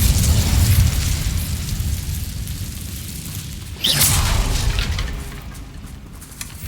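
A fiery Incendio spell blast from Hogwarts Legacy erupts inside Overlook Mine, a single loud whooshing burst that rises suddenly over a low rumbling background and fades over a couple of seconds.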